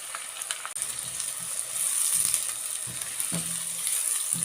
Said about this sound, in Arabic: وهتسيبي البصله بتاعتك دي بقى تحمر خالص وتاخد اللون الاصفر الغامق